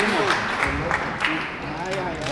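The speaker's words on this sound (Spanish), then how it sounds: "Ese fuerte aplauso para ese compañero" Hearty applause for a fellow participant rises at a Purépecha community gathering in Ocumicho, Michoacán, the clapping a steady bed under voices talking over it.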